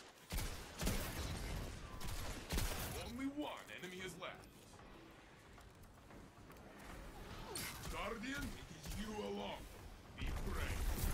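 In Destiny 2 Crucible play on the Cirrus Plaza map as a Voidwalker, a grenade blast and bursts of gunfire crack out in sharp loud clusters at the start and end, with someone talking throughout.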